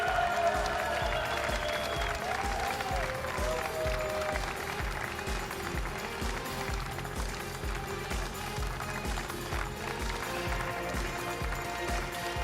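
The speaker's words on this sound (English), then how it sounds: "I will ask you to applaud Monsieur Pierre Hermé." Crowd applause at the Coupe du Monde de la Pâtisserie 2025 pastry competition, a continuous dense roar of clapping in a large hall, with a steady rhythmic beat underneath.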